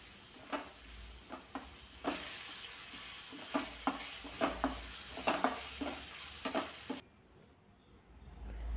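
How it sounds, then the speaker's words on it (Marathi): Garlic sizzles in hot oil with green chili paste while a spoon stirs it, producing steady frying hiss and a run of sharp scraping taps against the pan, close and clear, before the sizzle cuts off near the end. "लसूण थोडासा परतून घ्यायचा आणि त्यानंतर मग ह्या ज्या मिरच्या बारीक केल्या होत्या हिरवी मिरचीचा ठेचा घालायचा"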